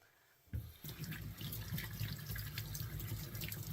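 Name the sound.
washing mushrooms under running tap water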